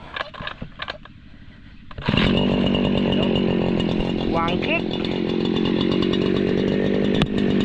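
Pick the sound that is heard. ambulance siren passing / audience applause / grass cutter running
grass cutter running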